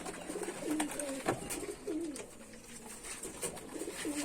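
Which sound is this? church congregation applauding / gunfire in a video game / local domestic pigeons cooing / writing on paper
local domestic pigeons cooing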